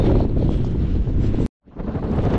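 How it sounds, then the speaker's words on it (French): Strong wind roars and buffets the microphone in a dense, continuous rumble across an outdoor cabbage field, cutting out briefly before gusting back in. "je vais rejoindre Samuel dans les choux avec ce vent qui s'intensifie au fur et à mesure des heures"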